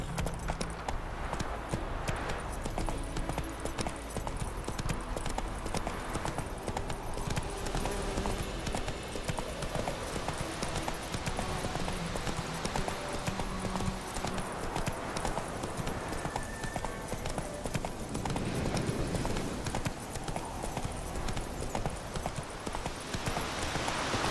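Horse hooves clop and gallop steadily across ground in the video game The Witcher 3, a continuous rhythmic beat under ambient game sound, with a brief whinny-like sound.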